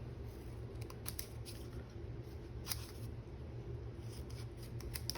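Scissors snip paper for a junk journal page, a few quiet, sparse cuts against a low background hush.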